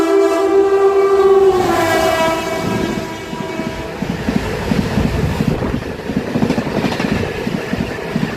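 A Janshatabdi Express train arrives at Belda station. A long horn blast sounds first, then the steady rumble and rattle of the rolling coaches, with wind buffeting the microphone.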